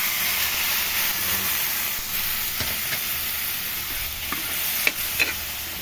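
Canned sardines hiss and sizzle steadily in a hot frying pan while being sautéed for a guisado with eggplant, with a few sharp clicks from stirring near the end.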